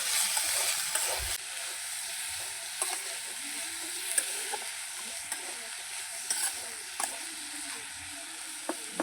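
Eggs and greens cooking in a pan, stirred with a utensil: a continuous quiet sizzle broken by repeated scraping and tapping strokes at an uneven pace.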